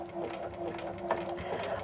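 A Bernina sewing machine stitches a honeycomb pattern over yarn on fabric edge, giving a quiet, steady mechanical whir with soft rhythmic needle clatter close by.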